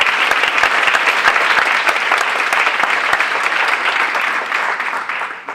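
Loud, sustained round of applause from a conference audience at a closing discussion, dense clapping filling the room for several seconds before tapering slightly at the end.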